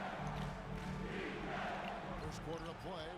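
A loud, continuous roar of an arena crowd cheering in the basketball video game NBA 2K23, with a ball bouncing and music mixed underneath.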